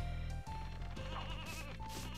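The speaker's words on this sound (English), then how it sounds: "I can get some sheep." Sheep bleat in the N64 video game Space Station Silicon Valley, a short electronic bleating call sounding over steady game music and sound effects.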